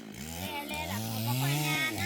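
A chainsaw cuts wood outdoors on a hot day, its engine whining and rising in pitch as it bites through a branch, loud and close and running steadily throughout.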